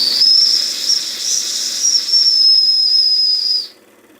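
Steady high-pitched steam whistle on a Weeden 661 model steam engine, blowing continuously and loudly with a breathy hiss for about three and a half seconds before cutting off sharply.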